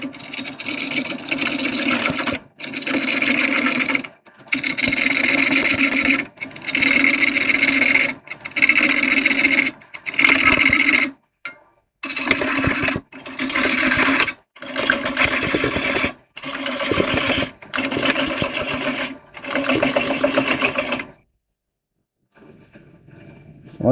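A woodturning lathe runs in a series of loud bursts as the tool cuts, each stretch of whirring and scraping broken by short pauses, before stopping near the end.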